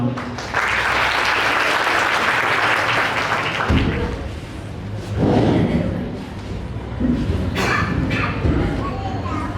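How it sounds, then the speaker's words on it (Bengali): An audience at a university college accounting department farewell event bursts into dense applause welcoming a professor to the stage. The clapping fades, then voices and movement follow as the clapping continues in fainter bursts. "সবাইকে বলবো করতালির মাধ্যমে স্যারকে স্বাগত জানানোর জন্য"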